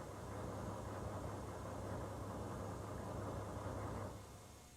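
A HMMWV engine runs with a steady, low, rumbling drone that sounds slightly uneven and rough, then fades somewhat toward the end.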